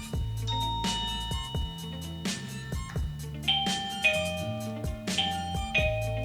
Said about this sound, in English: So as you can see, the ringer is now ringing